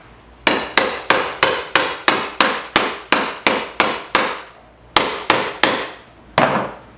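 A metal scraper prying up old asbestos floor tiles indoors gives a steady run of about fifteen sharp, loud cracking knocks, evenly spaced with a short pause near the end, and no talking.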